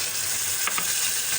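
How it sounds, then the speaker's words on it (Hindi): Garlic ginger paste frying in hot oil for an aloo gobhi curry, a constant close sizzle with a couple of brief stirring scrapes, no voices. "इसमें हम डालेंगे लहसुन अदरक का पेस्ट और फिर इसको करेंगे फ्राई"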